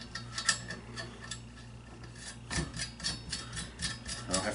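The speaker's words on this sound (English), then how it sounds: "Now I can also go ahead and install my Seekins muzzle brake." Seekins muzzle brake threaded by hand onto a rifle barrel clamped in a vise, giving a run of small metallic ticks, scrapes and rubbing clicks at close range with no talking.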